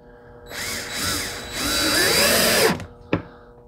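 A power drill drives deck screws into boat-building wood: a loud, steady whine of about two seconds, then it winds down, followed by a brief second burst near the end.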